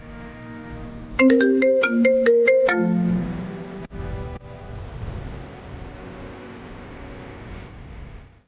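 A phone rings with a short melodic ringtone for about a second and a half, loud and close, then cuts off into quiet background noise.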